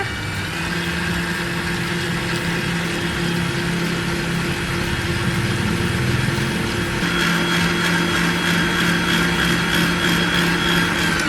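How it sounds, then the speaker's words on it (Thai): An electric stand mixer whips cream in a bowl, its motor producing a steady, loud whirring hum with a faint rhythmic beater chatter as the speed is raised gradually, running continuously without pause. "ใส่โถตีไว้แล้วนะคะ ตีเลย ค่อยๆไล่สปีดไปนะคะ"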